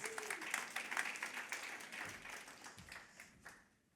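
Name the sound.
audience applause for the panelists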